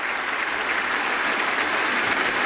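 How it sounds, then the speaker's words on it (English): Sustained applause from a large crowd at an England vs Pakistan one-day cricket match, dense and even clapping that stays steady throughout, heard from within the stands. "And the applause continues for a minute."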